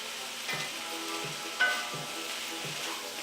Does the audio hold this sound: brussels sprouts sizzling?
yes